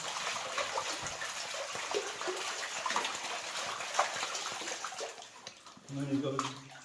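Water sloshes and swirls steadily as material is washed in a gold pan, a close, continuous wet rush with a brief voice near the end.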